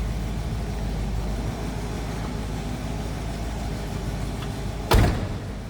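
The door of a 1968 Pontiac Lemans convertible shuts with a single solid thunk near the end, after a steady low background hum, with no talk.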